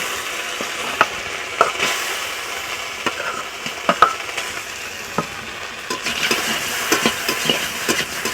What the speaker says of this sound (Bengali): আমি কড়াতে শোল মাছগুলো উঠিয়ে দিচ্ছি